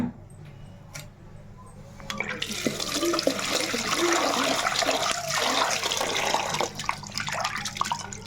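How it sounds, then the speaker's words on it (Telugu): Tamarind being washed by hand in water in a home kitchen, with steady splashing and running water that grows louder after the first couple of seconds and continues close by. "ముందుగా ఈ చింతపండు అయితే కడిగేసుకుందాం నీట్గా"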